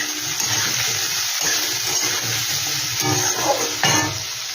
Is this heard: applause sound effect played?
no